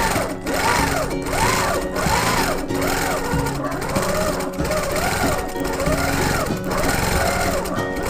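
A sewing machine runs steadily, stitching flower petals and filler designs on a quilt, with a fast, continuous mechanical chatter that holds close and loud, broken by slight speed changes and brief slowdowns.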